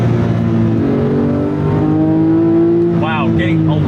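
Porsche 997 GT3 engine revving hard and blipping through a downshift, loud and close from inside the car, the pitch rising and dropping in quick swoops near the end.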